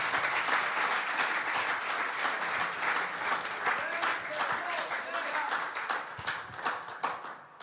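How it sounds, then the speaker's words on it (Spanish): At a men's church camp gathering, an audience applauds the teacher with dense, continuous clapping that fades slightly toward the end, a faint voice surfacing briefly underneath. "Dele un aplauso al maestro."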